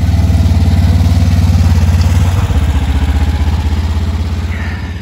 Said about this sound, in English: the Jeep keeps idling out. It just dies, and we don't know why.